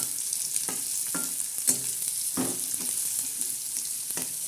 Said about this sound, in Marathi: आता हा कांदा असा चांगला लालसर करायचा